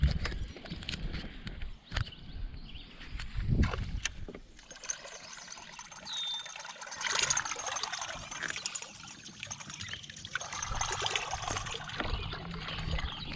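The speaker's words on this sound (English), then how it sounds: "Let's hear what it sounds like underwater." A tuned musky topwater fishing lure with chipped bladed spinners, heard from underwater: a continuous watery churning and rhythmic splashing with faint metallic clicks, moderately loud and steady throughout, without speech.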